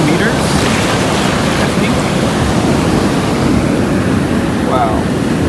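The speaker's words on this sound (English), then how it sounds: "Ooh, look at that wave. That's gotta be at least 2 meters" Ocean waves break on a sandy beach along the shore of Yogyakarta, Indonesia, a steady, loud rush of surf mixed with wind buffeting the microphone, with a person briefly speaking over it.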